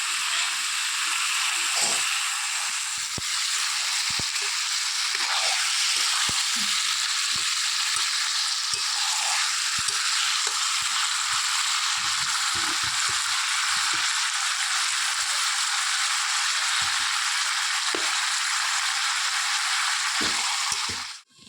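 Chicken kosha sizzles in a pan on a stove, a loud, steady frying hiss with scattered pops and occasional stirring clicks, close up and unbroken for the whole stretch before cutting off abruptly at the end.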